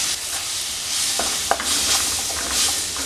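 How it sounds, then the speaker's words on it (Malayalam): Tomato being sautéed into chili masala in a pan for prawn roast gives a steady soft sizzle with scraping stir strokes and a few sharper clinks, close and continuous with no talking. "അത് ചേർത്ത് ഒന്ന് വഴറ്റിയെടുക്കാം."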